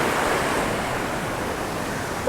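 Ocean surf rolls in at Stockton Beach, Australia, a dense, steady wash of breaking waves with some wind, loud and continuous with no voices.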